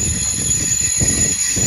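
Loud, steady rumble of a Ban'etsu West Line train arriving at Aizu-Wakamatsu Station up close, with a high metallic whine overhead and low clattering beneath.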